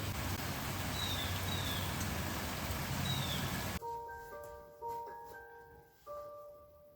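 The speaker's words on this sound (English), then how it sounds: "Also, it's raining." Rain falls in a steady dense hiss for a few seconds, then cuts off abruptly, giving way to a quiet room with a few soft electronic tones.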